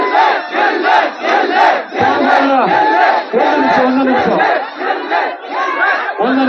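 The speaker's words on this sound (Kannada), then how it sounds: "ಜೋರಾದ ಚಪ್ಪಾಳೆ" A crowd at a clothing store event in Davangere roars and cheers loudly, a continuous swelling mass of shouting voices that rises and dips but never stops.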